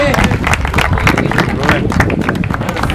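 A crowd claps for a prize winner at a local race awards ceremony, loud close clapping throughout three seconds, mixed with crowd murmur and voices.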